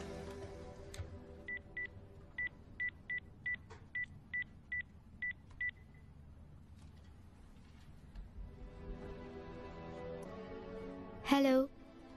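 A phone number is dialed as a row of about ten evenly spaced keypad tones, followed by low background sound and a brief rising tone near the end, all heard in a drama serial scene.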